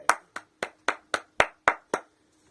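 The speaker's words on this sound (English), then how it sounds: "That gets a round of applause" A single person claps eight times in an even, unhurried rhythm, close and distinct, each clap sharp and separate with silence between, during a wrestling review show.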